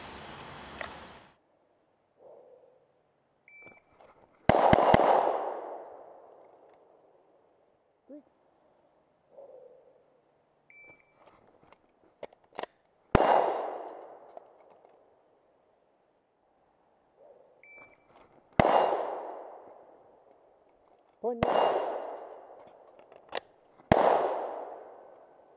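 Pistol shots in draw-and-shoot drills ring out as sharp, loud cracks, mostly fired in quick pairs with fading echoes and a few electronic timer beeps, spread across several separate strings with pauses between.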